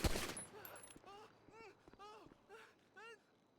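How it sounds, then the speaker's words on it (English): Gunfire erupts at city hall in a roleplay video game: a short, loud burst of shots right at the start, followed by people talking. "I'm about to start shooting at the city hall."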